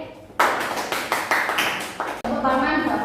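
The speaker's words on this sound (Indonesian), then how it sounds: "Boleh tepuk tangan untuk Andin." An eighth-grade class claps for a classmate in a quick patterned rhythm of sharp group claps, eight or so in about two seconds, followed by talking.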